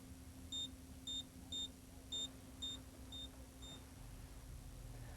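An ADT Safewatch alarm panel sounder beeps in short, evenly spaced electronic tones, about seven beeps that grow fainter over a low background hum.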